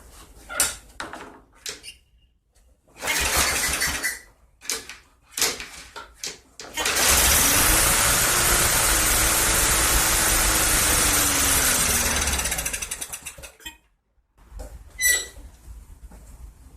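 A 2018 Yard Machines 11A-02BT729 lawn mower primed with starter fluid gives several short sputtering pulls, then catches and roars loudly up close for about five seconds before dying away.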